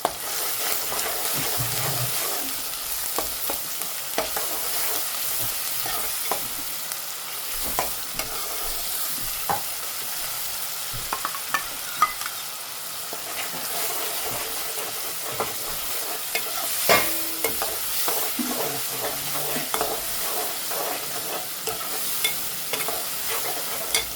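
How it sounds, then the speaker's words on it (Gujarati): Spice masala is stirred into a frying pan for a home-style Gujarati recipe. A long sizzle carries on beneath frequent clattering spatula strokes and scrapes, with louder knocks at irregular moments and no voices. "હવે નાખવાનું છે મસાલો."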